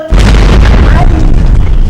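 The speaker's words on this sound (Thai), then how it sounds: "ภูเขาไฟระเบิด" A loud, sustained deep rumbling roar like a volcanic eruption, heavy booming low end that fills the whole stretch without pause.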